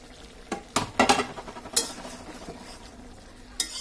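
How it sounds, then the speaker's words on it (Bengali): Brinjal and shrimp curry being stirred in a pan: several scraping, knocking strokes of a utensil against the pan come in a cluster, then fade to a soft background sizzle, with a last scrape near the end and no talking. "এখন একটু নাড়াচাড়া করে দিচ্ছি"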